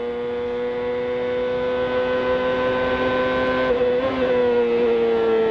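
CART race cars howl past on the fastest stretch of the Portland circuit at about 190 mph, a sustained high engine whine that shifts pitch slightly near the end, loud and continuous with no voices.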